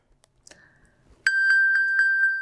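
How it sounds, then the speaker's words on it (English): An iPhone pinged from an Apple Watch to locate it sounds a loud, clear repeating electronic ding, five or six bright tones in quick steady succession after a brief quiet rustle. "I probably ping my phone at least once a day to find out where I laid it down"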